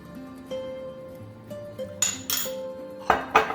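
Salmon being set into a baking dish in a kitchen, heard as a few sharp clinks and knocks of glass and cookware over quiet background hum, close and distinct without speech.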